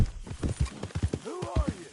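Horse hooves pound in a rapid galloping rhythm in Red Dead Redemption 2, close and clear, with a brief whinny partway through.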